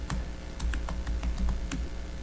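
Keys clacking on a computer keyboard during a finance committee meeting, a run of light irregular taps at moderate level over room hum, with no voices.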